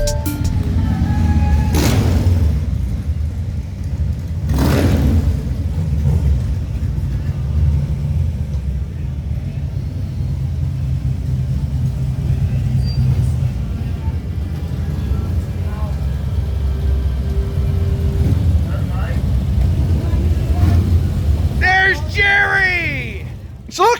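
Motorcycle engine droning steadily beneath a rider's ride out on the road, a continuous low rumble with wind buffeting and a couple of brief louder surges, voices speaking over it now and then.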